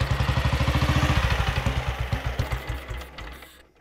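A restored old motorcycle engine of an unusual make runs at a steady idle, close and fairly loud, with an even chugging exhaust beat and some mechanical rattle that slows and fades toward the end.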